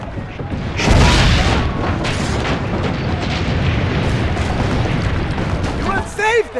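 Cannon fire in Assassin's Creed Brotherhood, heavy booming blasts with a rumbling low-end swell near the start and continued battle din, mixed under shouted voices.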